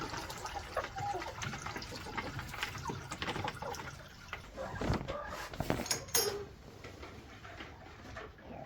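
Water rushes steadily into a container set out for ducks and chicks, a continuous splashing pour with faint bird sounds and a few knocks nearby.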